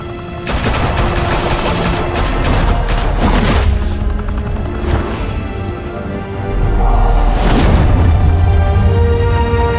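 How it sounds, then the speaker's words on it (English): Gunfire from Batman: The Telltale Series, a dense, loud barrage of rapid shots and booms that runs almost continuously, with a brief lull before it erupts again. "Open fire!"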